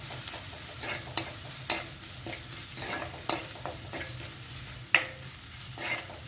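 Ingredients being stirred in a frying pan, with a steady soft sizzle under repeated scraping and clicking stirring strokes, close and fairly quiet.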